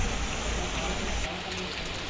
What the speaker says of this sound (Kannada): ಮಳೆ ಅಂತೂ ಸಿಕ್ಕಾಪಡೆ ಬರ್ತಿದೆ.